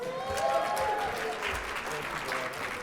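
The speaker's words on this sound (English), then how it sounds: "let's hear those applause." A crowd applauds with steady clapping that swells early and then holds, a voice partly audible beneath it.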